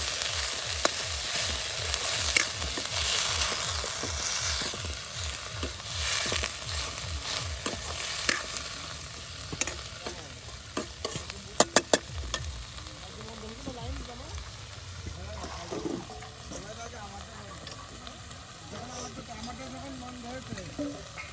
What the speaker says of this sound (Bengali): আর এখন চেপা ভেজে নেওয়া হচ্ছে। তার সাথে দেওয়া হচ্ছে সামান্য পরিমাণে ধনিয়া পাতা।